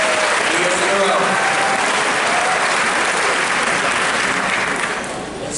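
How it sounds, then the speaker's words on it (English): Sustained, loud applause fills the hall from an audience at a middle school 8th grade moving-up ceremony, dense and continuous before thinning slightly at the end. "Let's give another round of applause, please, for the house supporting us as always"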